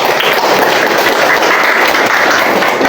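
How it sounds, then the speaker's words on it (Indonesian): Classroom applause from students, a dense steady burst of many hands clapping that fills the whole stretch at close, loud level with no talk over it. "tepuk tangan buat Pika dulu."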